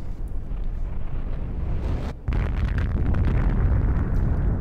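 A loud, deep explosion booms through a cutscene in the video game Destroy All Humans!, rumbling with a heavy low-end roar, cutting out for a moment, then surging back as a sustained blast.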